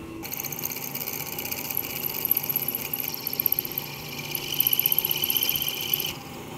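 A drill cuts into a small metal part for an Aermacchi motorcycle steering damper in a workshop, a high, steady whine running for about six seconds with a faint grinding rattle beneath it.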